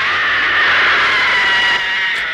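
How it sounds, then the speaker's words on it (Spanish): A sustained, piercing scream from a television program, loud and unbroken for a couple of seconds with no clear separate impact; the door slam is not evident. "¿A que aún recuerdan ese grito y ese portazo?"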